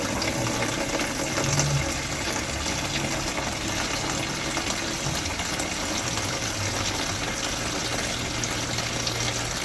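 Fuel drains steadily from the small tank of a 1932 Austin 7 saloon, a continuous trickling, gushing flow that holds an even level throughout, close by and with no talk.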